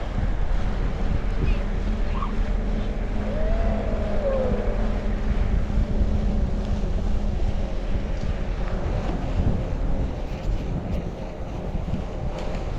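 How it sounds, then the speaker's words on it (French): A strong headwind buffets the microphone during an outdoor ride near Floreffe, a constant loud rushing roar that holds steady throughout and covers everything else. "Je sais qu'on a le vent de face, mais..."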